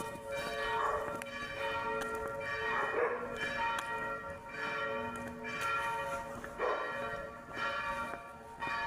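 Church bells ringing from a church on a small hill, repeated resonant strikes at a steady pace of roughly one every one to two seconds, each leaving a ringing hum, with no speech.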